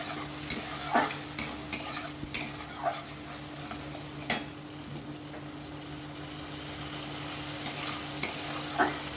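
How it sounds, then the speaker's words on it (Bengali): A mustard-based spice paste sautéed in a pan for a Bengali home-style dish: continuous close sizzling with repeated scraping and stirring strokes of a utensil, and a steady hum underneath. "এবার মশলাটা আমি কষিয়ে নেব।"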